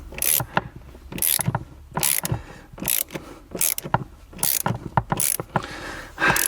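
A ratchet tightens the seat rail bolts on a BMW E92 M3 while aftermarket seats are fitted, with repeated loud bursts of clicking in an uneven rhythm, heard up close with no one talking.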